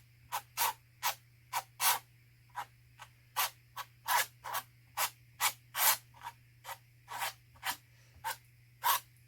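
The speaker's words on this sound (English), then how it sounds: "So there's probably a bit of scraping noises going on." Acrylic paint scraped with a palette knife, about twenty short, crisp swipes in a steady rhythm, close and fairly quiet over a low constant hum.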